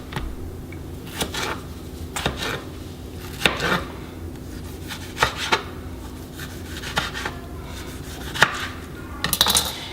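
A tomato is chopped on a cutting board with a knife in steady, close, moderately loud taps at an irregular rhythm over a faint background hum.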